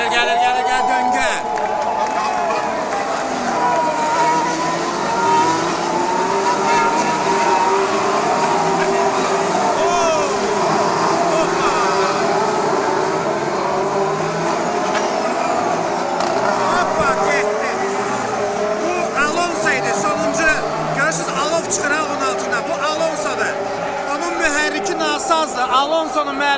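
Formula 1 cars racing at the Abu Dhabi circuit, a continuous loud engine whine rising and falling as cars pass one after another, with crowd noise and a voice speaking throughout.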